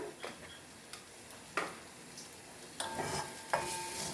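A spoon stirs spice masala with Kashmiri red chili powder in a pan: scattered light scrapes and ticks at irregular intervals over a faint sizzle, close and fairly quiet.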